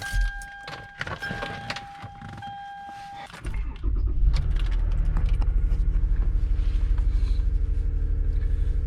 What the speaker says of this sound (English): So I'm gonna take a quick drive around and be right back.